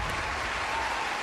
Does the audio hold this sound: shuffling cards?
no